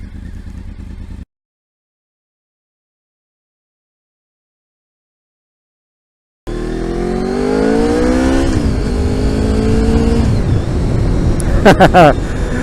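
A motorcycle engine revs hard and climbs through gears, loud and close, after a short burst of noise and several seconds of silence.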